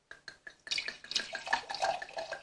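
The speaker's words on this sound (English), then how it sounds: "You guys are wondering how I rinse my glasses?" Wine glasses being rinsed with water: a few quick splashes, then a close, continuous burst of sloshing and dripping water with no talk.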